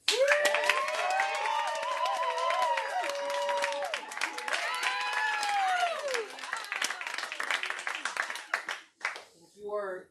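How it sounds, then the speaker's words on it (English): A rousing round of applause rises at a comedy show, a crowd clapping steadily beneath cheering and excited overlapping voices, then breaking off abruptly near the end as talk resumes. "at the end of your set, you get a rousing round of applause"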